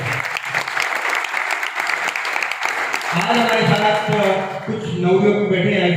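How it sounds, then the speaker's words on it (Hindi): Loud audience applause at a networking program, steady clapping from a large room that continues as a speaker's voice and music-like tones rise beneath it. "तो जोरदार ताली उन लोगों के लिए"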